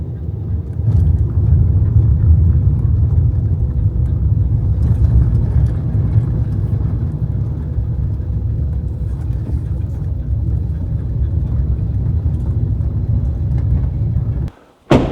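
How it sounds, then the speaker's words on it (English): A car drives slowly and maneuvers into the courtyard of an old Italian castello village, its engine rumbling steadily and close for about fourteen seconds before cutting off with a short thump at the end. "I can drive my car into the castello and with some basic maneuvers actually position it in front of my house"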